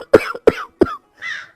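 Three harsh, close coughs from an old man in quick succession, followed by a breathy, raspy wheeze, loud and alone.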